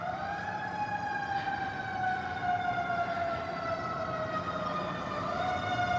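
Fire truck siren wailing as the engine leaves Engine Company 2 and Rescue Squad 1 in Penn Quarter, a steady, loud, slowly falling and rising tone sustained across the whole stretch over street noise, with no talking.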